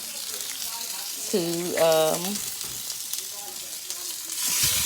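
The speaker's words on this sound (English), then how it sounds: "So I'm going to start off by putting my oxtails in the pan" Oxtails sizzle as they fry and brown in a hot pan for stewed Jamaican oxtail, a steady close sizzle with a brief swell as meat goes in, under a few spoken words.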